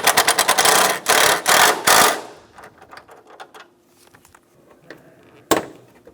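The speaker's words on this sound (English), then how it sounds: "Install the bolts for the headlight." A power tool driving in the headlight bolts on a 2013-2017 Honda Accord, a loud, close, rapid rattling burst lasting about two seconds, followed by quieter clicks and handling noise and one sharp knock near the end.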